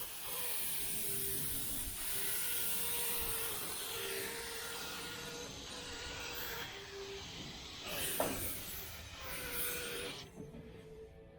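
Spray gun applying base coat to the mirrors of a 1976 Chevrolet El Camino, a steady faint hiss of paint spray lasting most of the time, with small clicks and pauses near the end.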